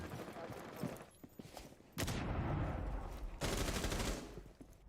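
Gunfire tears through a wall in a competitive esports shooter match, with rapid automatic bursts and two long, loud sprays of shots separated by brief pauses.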